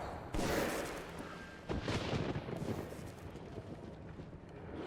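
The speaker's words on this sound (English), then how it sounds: "you fire at them as much as you want, buddy" Gunfire and explosions in the game Metro 2033 Redux, a few heavy booming bursts with rolling rumble and scattered shots, fairly faint overall.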